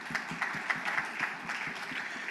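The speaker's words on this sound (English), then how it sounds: "Let's give her applause." An audience at an AI and retail industry conference applauds, with a thin, fairly faint patter of clapping from a modest crowd in an indoor hall.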